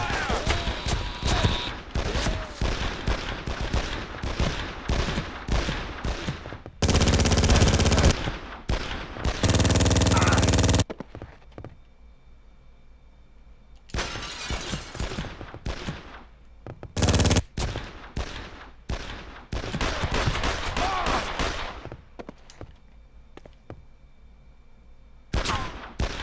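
Rapid bursts of machine-gun fire from the Made Man crime shooter game, loud and dense, coming in several clusters separated by quieter gaps with lingering game ambience.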